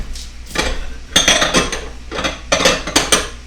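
A metal pan is set on a stove and shifted, giving several loud close clanks and scraping rattles in quick bursts.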